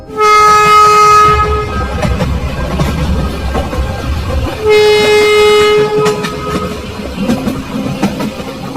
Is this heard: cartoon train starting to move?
yes